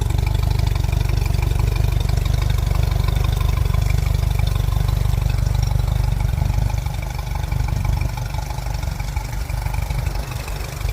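A 2023 Mercury 60hp Command Thrust outboard engine runs steadily at close range with a loud, constant drone, easing slightly lower toward the end.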